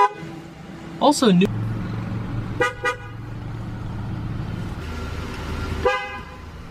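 A Saab car's horn honks in short blasts, a brief double toot followed by a single quick beep and another beep later, loud and close over a steady idling engine, with a brief spoken remark.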